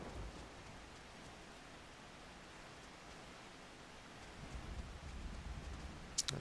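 Steady rainfall in the video game Final Fantasy XIV makes a soft, even hiss throughout, growing slightly heavier toward the end, with a faint rumble and no voices.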